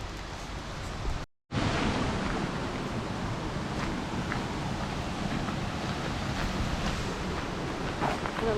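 Steady broadband rush of running water, continuous and fairly loud, with a brief dropout near the start.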